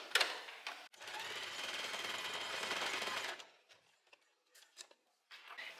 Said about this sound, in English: now I'm just gonna sew the two ends together with a zigzag stitch